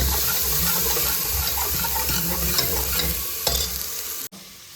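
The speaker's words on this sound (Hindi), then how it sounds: "ये मेरा छौंक बन रहा है दाल का।" Dal tempering (tadka) sizzling steadily in a pan in a home kitchen, a continuous close frying hiss with faint stirring and clinks, cutting off abruptly near the end.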